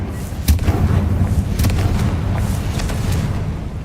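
Confringo fire spells blast in the game Hogwarts Legacy, with sharp explosive booms landing around two moments over a loud, continuous rumbling battle backdrop.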